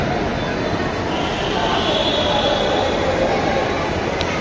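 Background drone of Shahbag metro rail station in Dhaka, heard from the platform: a continuous, moderately loud rail and ventilation hum with a faint high squeal near the end, without clear speech.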